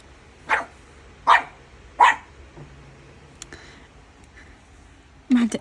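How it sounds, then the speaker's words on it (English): A puppy barks three times in a quick, evenly spaced row, followed by a short pause and one last bark. The barks are fairly close and sharp, and only faint room noise sits underneath. "I have to edit out the puppy barking"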